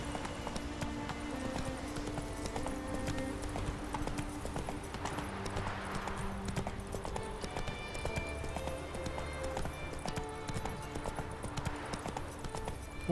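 Steady clip-clop of a horse's hooves trotting along in The Witcher 3: Wild Hunt, with a busy musical backdrop and game-like ambience running throughout.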